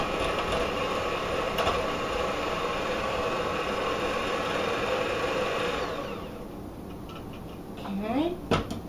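An electric mixer on high whips egg whites with sugar for ladyfinger cookies, a steady loud whirring and rattling that runs for about six seconds before cutting out, followed by quieter handling sounds.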